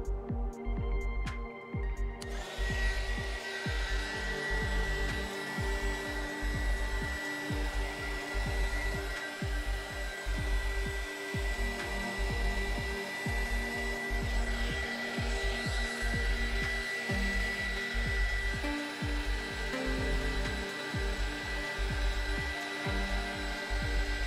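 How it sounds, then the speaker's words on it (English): A heat gun blows hot air in a steady, loud whoosh on an LED strip inside a 3D printer enclosure, with a continuous drone and faint rhythmic ticking throughout. "And again, use the heat gun."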